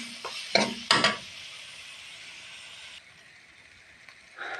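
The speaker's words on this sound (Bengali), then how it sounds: "এটা একটু নাড়াচাড়া দিতে হবে" Garlic cloves are stirred with salt and turmeric in a pan, a few sharp scraping strokes over a steady hiss of frying that softens after a few seconds.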